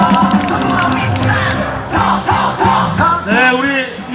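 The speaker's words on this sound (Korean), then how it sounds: "박수로 인사 올리겠습니다." A large crowd at a campaign launch rally for local election candidates shouts and cheers loudly together, voices rising in swelling waves of rousing calls.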